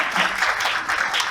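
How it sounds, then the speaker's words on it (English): An audience at a human trafficking conference applauds for a speaker, producing a dense, steady wash of clapping from many hands throughout. "Let's give this young lady a big round of applause."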